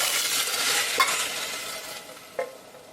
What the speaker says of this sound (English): let's take the sausage out of the pot